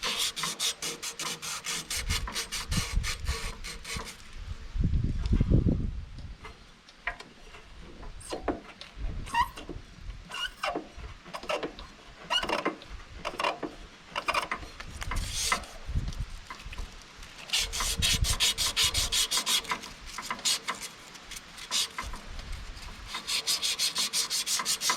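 A worn snowblower friction drive part being scrubbed of surface rust and rubber buildup, with repeated rough rasping strokes in irregular bursts that are close and moderately loud, with no talk.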